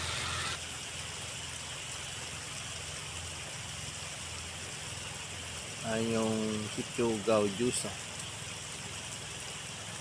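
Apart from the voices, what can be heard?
rain falling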